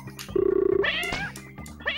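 A goofy underwater cat sound effect from the Addams Family: Pugsley's Scavenger Hunt video game, with a loud warbling, bubbly meow that bends upward and then trails off, followed by another short wobbly cry, all close and clear.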